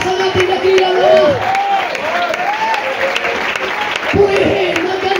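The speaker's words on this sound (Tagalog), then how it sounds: "Palakpakan natin ang malakas ang ating dakilang Lord." A church congregation claps loudly and continuously in praise, dense applause with a voice speaking or calling out over it at times.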